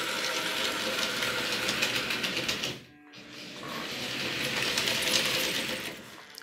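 An H0 scale model train runs on a home layout, giving a steady mechanical whirring and clicking that fades briefly to near silence midway before resuming at similar strength.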